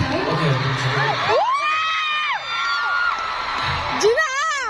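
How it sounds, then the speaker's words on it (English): A fan meeting crowd in Manila cheers loudly, with shrill rising screams and whoops over a steady roar that carries through the whole stretch. "Let's give them a round of applause, guys"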